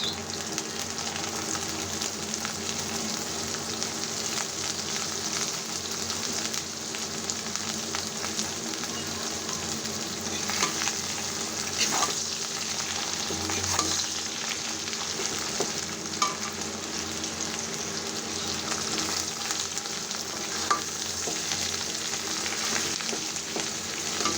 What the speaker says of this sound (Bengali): এখন আমি শাকগুলো দিয়ে দিচ্ছি